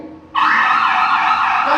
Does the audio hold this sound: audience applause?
no